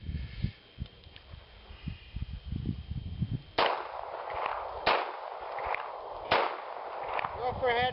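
A snub nose .38 revolver is drawn from the holster and fired two-handed, giving three sharp, loud reports a second or so apart, each with a short ringing decay, after a stretch of quieter shuffling.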